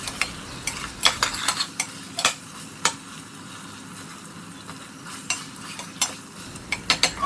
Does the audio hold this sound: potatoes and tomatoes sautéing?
yes